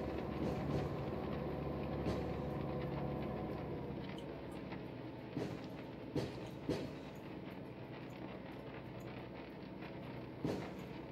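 Train shunting in Train Mechanic Simulator 2017, a low steady rumble of rolling stock with scattered clacks and knocks of wheels and couplings, moderately loud and continuous.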